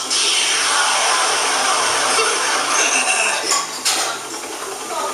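A fan spins with a steady, loud whooshing rush, a continuous broadband whir that holds for several seconds before easing slightly near the end, with a brief clatter partway through.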